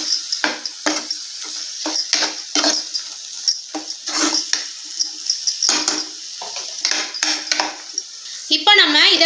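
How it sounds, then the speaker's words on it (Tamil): A spoon scrapes and clinks in a pan as coconut paste is stirred into shark fish curry, with close, irregular metallic clatter and a brief voice at the end. "இப்போ நம்ம தேங்காய் பேஸ்ட்டை சேர்த்துக்கிறலாம். சேர்த்துட்டு நல்லா கலந்து விட்டுருங்க."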